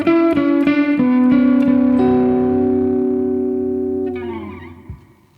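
An electric guitar in 22-tone equal temperament plucks several quick notes, then sustains a tone that glides smoothly between fretted and fretless pitches, ringing clearly before a final plucked note fades out.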